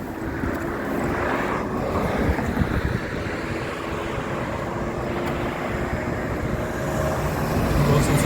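Maxus eDeliver 3 electric van driving on a rainy road, a steady broadband rush of tyre and wind noise with a faint low hum, continuous and even throughout.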